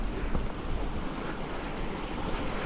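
Rushing water of a rain-swollen beck at a ford on a fell path near Carrock Fell in the Lake District, a steady broadband roar close by, with no voices.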